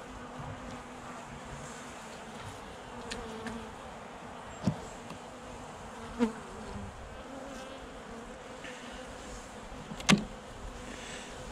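A honey bee colony hums steadily during a late-season hive inspection in a bee garden, a soft continuous drone broken by a few sharp clicks and knocks of frames or tools, with no one speaking.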